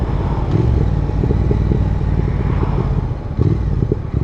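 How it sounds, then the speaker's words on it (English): A Triumph Thruxton R motorcycle engine rumbles steadily with a low, loud, close exhaust note and short blips as it downshifts through the gears, the irregular pops sitting over the continuous engine drone. "But just listen to that, just those little blips when you go down the gear."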